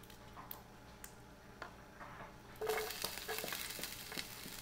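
Onion frying in a pan for a home-cooked fish and egg dish, a faint kitchen ambience that breaks into a steady close sizzle with small crackles and pops once the onion hits the oil.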